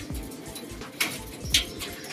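Pet pigeons coo in soft, low, repeated bursts close by, with a couple of brighter chirps mixed in.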